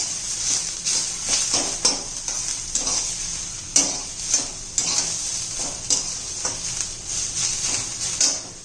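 Fresh coriander sautéed in a pan while preparing masala for a fish curry, a steady sizzle broken by repeated scrapes and taps of a spoon stirring against the pan, close and alone.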